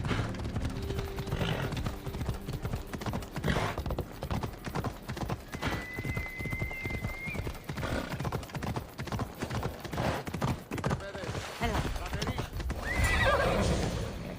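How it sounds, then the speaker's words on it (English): A horse in the Assassin's Creed Origins video game clip-clops along with steady, close hoofbeats and gives a clear whinny partway through, while voices speak over it. "I thought Adonis could make good use of this horse."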